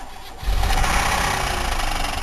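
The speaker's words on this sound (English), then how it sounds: "You can hear it missing on one cylinder" A Buick LeSabre engine cranks and catches at about half a second, then runs rough and uneven from a cylinder misfire with a bad rod knock, loud and close, with no talk.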